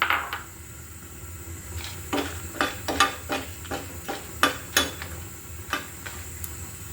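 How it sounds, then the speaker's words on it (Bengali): Dried red chillies frying in a pan, with a steady hiss underneath a series of sharp, irregular clinks and scrapes of a utensil against the pan, close and fairly loud. "আমি কিছু শুকনো মরিচ ভেজে নিচ্ছি"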